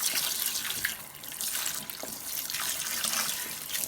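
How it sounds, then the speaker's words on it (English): Produce being washed by hand in a bowl of water, with a continuous close splashing and swishing slosh that swells and eases as it is swirled around, no voices present. "I add some water, and then I place the produce directly in. And then I wash it around"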